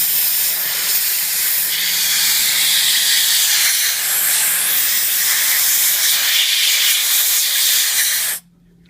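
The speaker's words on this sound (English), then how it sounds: "you can just blow the extra off with the air hose here" An air hose blasts loose walnut shells off a freshly set silicone piece in a workshop, a loud, steady hiss of rushing air lasting about eight seconds before cutting off abruptly.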